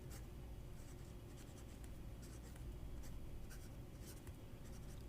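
A pen writing on vertical lined paper, faint scratchy strokes coming in short irregular bursts over a low steady background hum.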